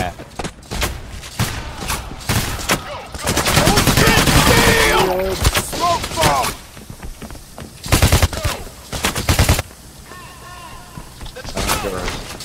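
In the PAYDAY: The Heist counterfeit mission, video game gunfire rattles in rapid automatic bursts and scattered single shots, loud at times and fainter at others, mixed with thuds and bits of talk.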